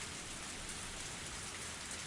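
Rain falls in the visual novel Higurashi When They Cry: Matsuribayashi as a steady, even hiss of heavy rainfall, continuous and fairly soft, with no voices.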